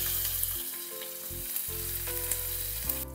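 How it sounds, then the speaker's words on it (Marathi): Whole peanuts and green chillies crackle and sizzle steadily in hot oil in a pan, a close, continuous frying hiss with scattered pops, and no one speaks. "थोडेसे शेंगदाणे शिजले, क्रिस्पी झाले की त्यामध्ये ऍड करूया मिरच्या"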